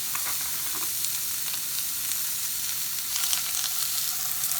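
Oil sizzling in a hot skillet makes a constant, moderately loud hiss with faint bursts of crackle and brief spatters, and no talking.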